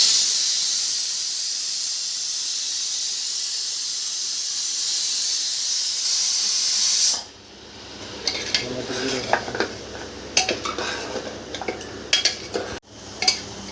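Cleaned goat head meat added to a hot pan starts with a loud, steady sizzling hiss that cuts off halfway, followed by close metallic scrapes and clatters of stirring in the pan.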